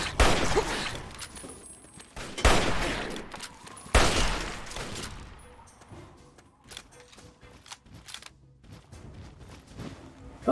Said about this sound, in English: Sounds of gunfire.